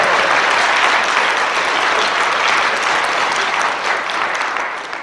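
A room full of people clapping in a sustained round of applause, loud and dense throughout, tapering slightly toward the end.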